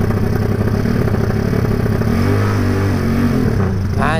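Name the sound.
motorcycle engine revving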